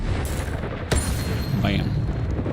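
The Incendio fire spell is cast in the game Hogwarts Legacy, a sharp burst followed by a whooshing flame and a brief high whistle over a steady rumbling game background.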